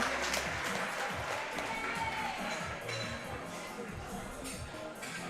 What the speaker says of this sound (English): Give them a round of applause for best lift all of Canada